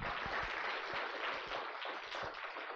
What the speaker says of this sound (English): So can you give a round of applause to Camden?